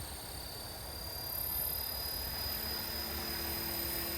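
A Blade Fusion 360 RC helicopter hovers at 75% throttle, giving a steady buzzing whine with a high rotor tone that swells slightly after the first second. Close and continuous, with no talking.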